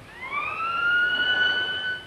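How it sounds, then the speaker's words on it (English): Flood warning siren in Cornwall wailing steadily and loudly, its tone rising at the start and then holding high and clear for about two seconds over a faint background hiss, with no one speaking. "A siren warns of impending floods to give people time to get clear."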